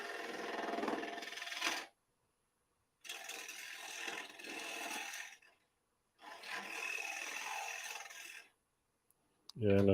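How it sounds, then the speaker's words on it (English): Bowl gouge cutting wood on a lathe, three long rasping bursts of the tool shaving the spinning workpiece, separated by short silent pauses, then a brief voice at the end. "This is just like bowl turning now."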